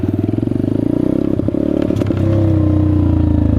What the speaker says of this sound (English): The Peace Moto, honestly, is a lot of fun doing wheelies on.